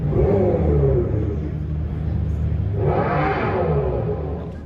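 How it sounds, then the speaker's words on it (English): A deep engine-like rumble from the Dodge Charger EV's synthetic exhaust builds as the electric muscle car accelerates, swelling into a louder growl near the end, fairly close. "aims to keep that iconic muscle car growl alive"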